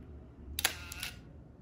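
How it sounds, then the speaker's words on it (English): Leica M8 camera shutter firing once, close and alone in a quiet room: a crisp mechanical snap followed by a second short click about half a second later. "So this is my Leica M8. And just listen to this shutter sound."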